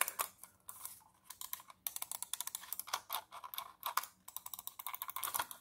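Computer mouse buttons clicking rapidly and repeatedly while the mouse is being reassembled, crisp close-up clicks in irregular bursts with brief pauses and no talking.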